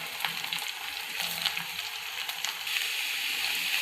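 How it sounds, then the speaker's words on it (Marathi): Cabbage, garlic, carrot, coriander and tomato for cabbage rice sautéing in a pan, a close, continuous crackling sizzle with small sharp pops and a slight swell toward the end. "त्याला परतून घेऊ."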